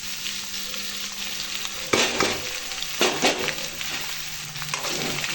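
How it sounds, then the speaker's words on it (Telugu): Carrot, potato and onion fry together in a pan while upma is being prepared, giving a steady close sizzle broken by several sharp bursts of stirring and scraping, with no talk over it. "ఫ్రై అయిన తర్వాత ఇందులోకి క్యారెట్, ఆలు, ఆనియన్ 3 కలిపి వచ్చాయి చూడండి"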